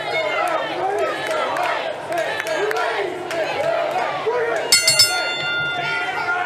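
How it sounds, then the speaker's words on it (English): A wrestling match starting bell rings out in a few quick, bright metallic strikes over a steady roar of crowd noise and chatter in an arena. "Senior official Travis Trueborn calls for the bell."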